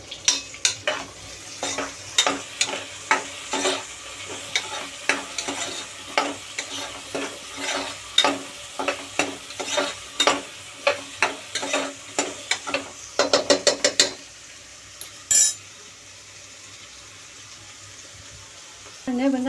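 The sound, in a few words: chopped onions frying and being stirred in oil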